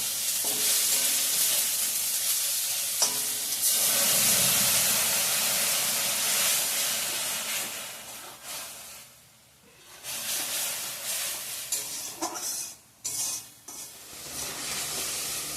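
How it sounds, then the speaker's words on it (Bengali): Spice paste fries in oil in a pan, a loud close sizzle and hiss with stirring scrapes, briefly dropping away near the middle and again toward the end before resuming. "তো মশলাটা ভালো করে কষানো হয়ে গিয়েছে এখানে তেল ছেড়ে দিয়ে দিয়েছে"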